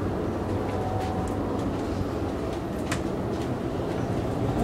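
Interior of a moving Amtrak passenger train: a steady low rumble with faint rhythmic clicks of the wheels on the rails, even and constant throughout, with no talking.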